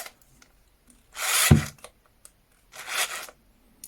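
Einhell TC-CD 18/35 Li cordless drill tightening at its lowest speed setting, where the electronic clutch engages. Two separate whirring bursts come through clearly, the first ending in a sharp clunk, with quiet gaps between and no voices.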